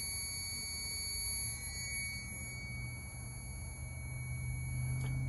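A multimeter sounds a steady continuity beep while its probes test the burner switch of a GE electric stove, a constant electronic tone over low background hum.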